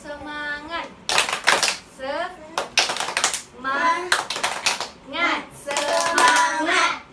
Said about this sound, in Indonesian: Sebelum itu kita tepuk semangat dulu yuk.